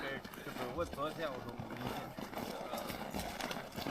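Hooves of a tall riding horse clop steadily in a village in the Altai region of Xinjiang, mixed under almost continuous nearby talk.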